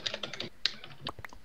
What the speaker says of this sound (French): Désolé de massacrer mon clavier.